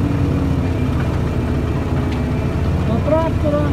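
A CLAAS Axion 950 tractor pulls a Lemken Karat cultivator through a dry field after sugar beets, its engine a steady, close, low drone that holds throughout under a voice.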